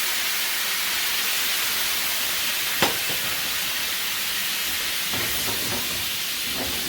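Red wine poured into a hot lamb pan sends up a loud, steady sizzling hiss that fills the whole stretch, with a few faint knocks and scrapes underneath.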